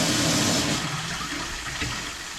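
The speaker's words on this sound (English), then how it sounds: "Toilet flush." A toilet flushing after a leak repair, a strong rush of water that is loudest at the start and then settles into a steady swirling drain, close and alone with no voices.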